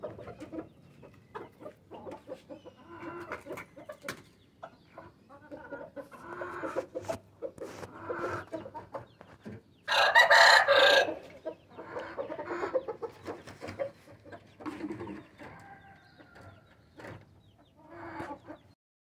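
Chickens and a rooster being fed grain and water on a farm cluck busily nearby, with one loud, brief outburst partway through and scattered calls around it.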